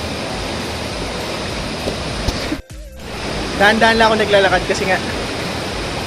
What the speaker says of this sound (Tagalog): This is where the water is coming.